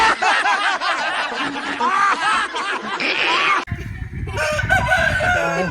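A rooster crows loudly and close by, a long strained call broken by a short pause and then more ragged calling, set at an animal market among sacrificial livestock in Karachi, Pakistan.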